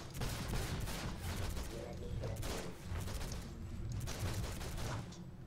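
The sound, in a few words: missiles launching in video game DC Universe Online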